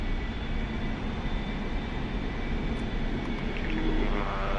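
A steady, loud jet roar from an A-4E Skyhawk in Blue Angels airshow solo practice inside the DCS World flight simulator, droning continuously without a break and with no voices.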